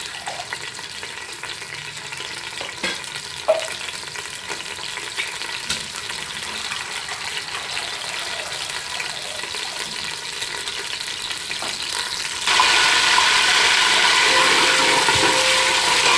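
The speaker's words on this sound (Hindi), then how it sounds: "अब इसमें मैं 1 टेबलस्पून सफ़ेद ज़ीरा ऐड करूँगी। इसको हल्का सा कड़कड़ाऊँगी" White cumin seeds crackle in hot oil in a pot, giving a steady close sizzling hiss that swells noticeably louder and brighter near the end.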